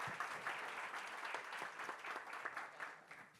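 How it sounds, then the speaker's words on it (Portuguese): Applause from an audience at a political event in Brazil, steady and fairly distant clapping filling the whole span with no talk over it. "Uma salva de palmas."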